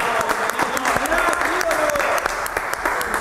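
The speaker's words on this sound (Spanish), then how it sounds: "Le damos un fuerte aplauso merecido" A studio audience on a Spanish-language morning television program claps to welcome a guest, crisp individual claps audible in a lively burst while a voice speaks over it.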